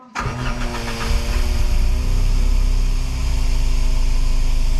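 Citroën Xsara VTS engine cranks and catches after a high-flow fuel pump install, then settles into a steady, loud idle with a slight rev, close by with no talking.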